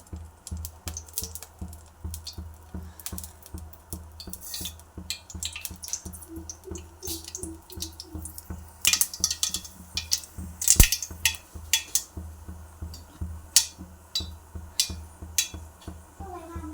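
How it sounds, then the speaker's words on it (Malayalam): Mustard seeds popping in hot oil, a scattered run of sharp, irregular crackles and pops that grow denser midway, heard close over a faint steady tonal background. "എണ്ണ ചൂടായിട്ട് കടുകിട്ട് കൊടുക്കാം"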